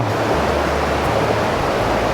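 Rushing water of Than Mayom Waterfall on Koh Chang, a loud, steady broadband roar with no pauses, heard alone without talking.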